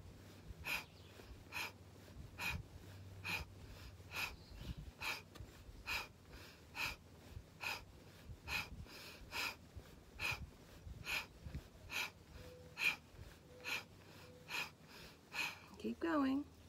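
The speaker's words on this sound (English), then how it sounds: "there's a little bit of a breath of fire going on here" A person performs breath of fire, a rapid breathing exercise, with short sharp nasal exhalations in a steady, even rhythm of about two per second, close and fairly quiet, continuing throughout.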